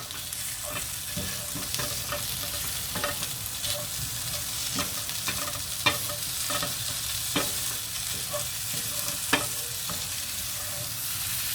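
Spices frying in oil or ghee for a vegetarian matar paneer, with a steady sizzle and repeated spoon scrapes and clinks against the pan as the mixture is stirred, close and continuous with no talk.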